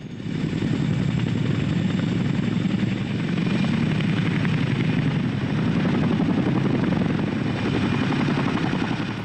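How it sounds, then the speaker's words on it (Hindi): An Indian Air Force Chinook heavy-lift helicopter, its loud, steady twin-rotor thumping and engine roar filling the whole stretch without pause. "इस हेलीकॉप्टर को किसी भी लोकेशन पर लैंड कराया जा सकता है, मौसम कैसा भी हो।"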